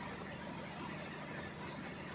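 A ship's air compressor, used to fill starting air for the main engine and generators, runs with a steady, dense mechanical drone that fills the engine room at constant level, with no voices.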